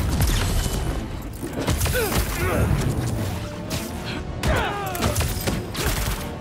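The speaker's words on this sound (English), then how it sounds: "Stop shooting your own men." Gunfire crackles through the Spider-Man 2 video game amid dense, chaotic combat noise, with crashes and thuds layered over bursts of shots, and a voice talking over the action.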